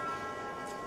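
A bell rings to end painting time at a portrait art competition, a sustained resonant tone that hangs clearly in the room.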